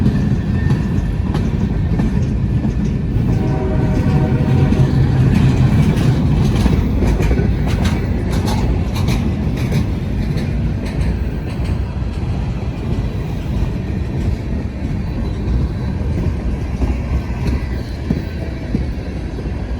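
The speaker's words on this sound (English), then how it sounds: "That was a good train." A long freight train rumbles past nearby, wheels clacking steadily over the rails for the whole stretch, loud and continuous with no voices.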